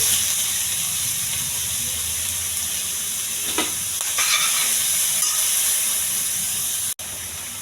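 Chopped onions and curry leaves frying in hot oil for a mutton curry give a steady, loud hiss and sizzle, with a brief stirring scrape partway through and an abrupt cut near the end.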